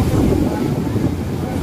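Large ocean swells, around eight to ten feet, roll around a boat at sea on a yellowfin tuna fishing trip, a steady loud rumble of wind and water close to the microphone throughout, with no voices.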